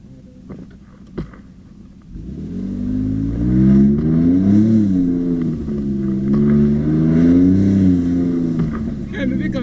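A Ford Raptor pickup truck engine starts up and revs with a deep, loud, rising and falling roar held close by, the swells repeating, while people talk over it.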